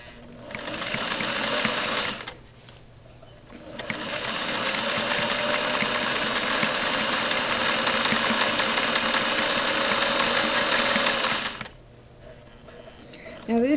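Singer sewing machine, a model 1591 motor, run by foot pedal: a loud steady whirring hum in two bursts, a short one then a long sustained run, with brief pauses between.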